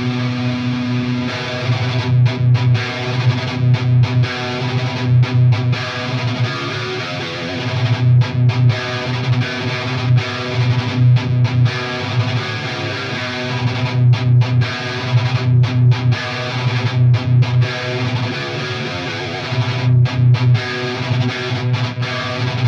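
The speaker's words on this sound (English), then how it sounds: "And then finally, the 7-string guitar riff." A heavily distorted 7-string electric guitar riff played through a Line 6 Helix with OwnHammer impulse responses chugs with loud, rhythmic palm-muted low notes and brief stops, alone throughout.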